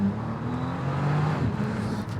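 A Bentley Continental GT Speed pulls away hard in first gear, its engine note swelling into a rising growl that peaks and then eases, heard from inside the car at moderate loudness.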